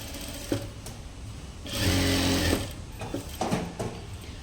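A sewing machine stitches a lining blouse with a steady mechanical whir: a sustained run of stitching in the middle and short stop-start bursts before and after, at moderate volume.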